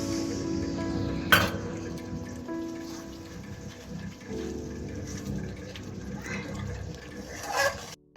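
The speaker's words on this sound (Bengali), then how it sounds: "আর সামান্য একটু জল দেবে, দইয়ের বাটি ধোয়া জলটা" Water splashes into a cooking pot of spice paste mixed with sour curd, a close, steady trickling and sloshing over a few seconds, with faint clinks of utensils.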